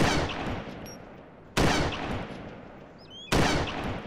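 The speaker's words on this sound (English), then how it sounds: "Yeah, I heard the shots." Three loud, sharp gunshots ring out about a second and a half apart. Each blast has a long, fading echo tail, and no one speaks.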